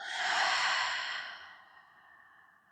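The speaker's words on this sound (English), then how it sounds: "Long exhale." A long, soft breathy exhale during a yin yoga session for the hips, close and gentle, fading out over about two seconds into quiet.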